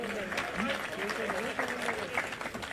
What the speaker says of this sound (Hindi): ऑडियंस से गुजारिश है कि वो अपने लिए तालियां बजा लें।